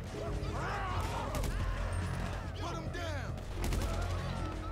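Gunfire in GTA V during a shootout, a dense run of cracking shots and clattering impacts over constant background noise, with a voice talking over it.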